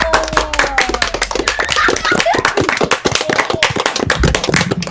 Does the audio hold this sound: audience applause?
yes